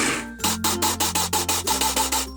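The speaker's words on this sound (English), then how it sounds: "I took 5 or 6 pulses of the food processor" A food processor pulses a cake mixture in short repeated bursts, about ten quick, rough whirring pulses in an even rhythm, loud and close, with no voices.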